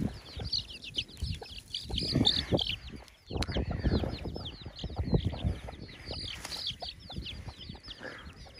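Chickens on a farm, a hen with her small chicks, peep and cluck in a steady busy chatter, with the occasional flap of wings and some scuffling close by.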